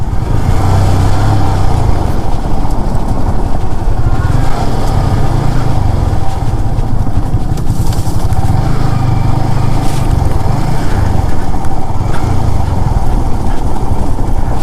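A motorcycle riding downhill on the Tindu route, its engine droning loud and close throughout, with the revs rising and falling in a rough, continuous rumble.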